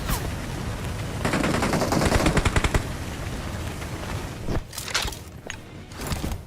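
Machine gun fire in a shooting video game: a burst of rapid automatic shots in the first half, then scattered single shots and thuds further off, with no talk over it.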